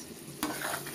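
A spoon stirs a Bangladeshi mixed vegetable and dried fish curry in a pan, one quick scrape followed by a low steady sizzle, brief and close, no voices.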